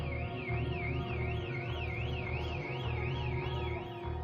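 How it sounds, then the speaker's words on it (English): A jewelry store alarm in the UK blares during a robbery: a continuous, steady warbling electronic wail that rises and falls rhythmically, heard alone at moderate distance. "The store's alarm blares, alerting the area to the crime in progress."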